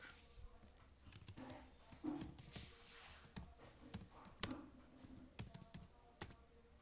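Keys on a computer keyboard tapped in quick irregular bursts while text is entered for a kids' animal coloring book cover design, close and fairly quiet with no talking.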